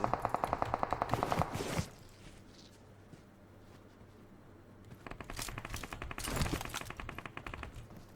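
Rapid automatic gunfire in the PUBG Mobile shooter game, two close bursts of fast repeated shots separated by a few seconds of quiet.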